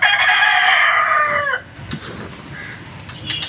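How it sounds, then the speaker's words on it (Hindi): A rooster crows loudly and close in the morning for about a second and a half, trailing off into quiet outdoor ambience. "सुबह का टाइम है, मुर्गा पानी दे रहा है।"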